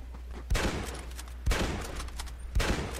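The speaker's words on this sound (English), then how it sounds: "I'd like to try to blind fire" Gunfire blind-fired in the Red Dead Redemption multiplayer mode: three loud, separate bursts of shots about a second apart, each with a crackling echoing tail.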